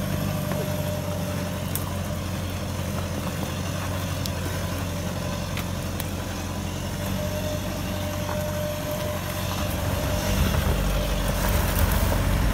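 A 4x4 off-road vehicle engine runs steadily in muddy ruts, a low continuous rumble that swells slightly near the end as the throttle opens, with a faint voice nearby.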